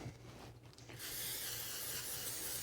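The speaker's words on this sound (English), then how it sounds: "we just spray that side with a little olive oil spray" Olive oil cooking spray misted onto a salmon fillet, a soft, steady close hiss that starts after a quiet second and continues to the end.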